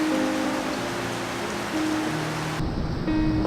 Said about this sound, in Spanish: una gran lluvia nos sorprendió